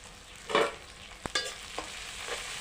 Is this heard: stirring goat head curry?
yes